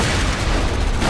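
A frag grenade in the Borderlands 2 shooter game bursts in a loud, dense boom that fills the brief moment with rumbling noise.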